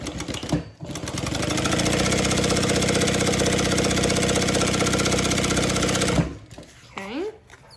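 A sewing machine top stitches a handbag in one long, steady, close run of several seconds, its motor humming evenly, with short bursts of talk before and after.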